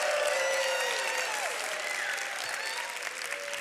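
A live indoor audience at an arts school launch event applauds and cheers loudly, a dense steady wash of clapping with whoops and shouts throughout, fading slightly toward the end.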